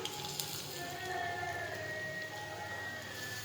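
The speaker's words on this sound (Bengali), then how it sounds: "তো গাইস দেখো আমি তেলের মধ্যে ফ্রেঞ্চ ফ্রাইগুলো ছেড়ে দিলাম" French fries coated in cornflour sizzle steadily in hot oil, a soft, continuous crackle that stays fairly faint throughout.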